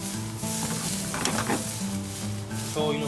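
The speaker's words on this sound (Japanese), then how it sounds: "ご飯を少し寄せ醤油を鍋に垂らします。" Soy sauce hitting a hot frying pan beside pushed-aside fried rice, a steady close sizzle and frying hiss with faint stirring scrapes throughout.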